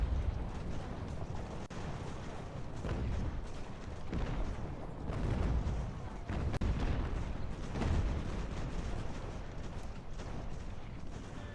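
Booming artillery fire from a battlefield in the strategy game Ultimate General: American Revolution, with dense, continuous rumbling volleys and heavy low thuds rolling on without pause.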